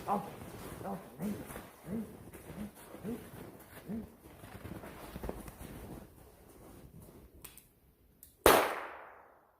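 A single sharp gunshot cracks out loud and close near the end, ringing off briefly, fired while training a gun-shy dog as it chases a bird; quiet talk and rustling fill the seconds before the shot.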